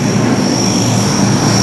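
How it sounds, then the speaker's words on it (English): F/A-18C Hornet navy jet at a 2004 air show making a minimum radius turn: a steady, loud broadband engine roar with a high whine riding on top, continuous and without talk. "From the left, the Hornet minimum radius turn."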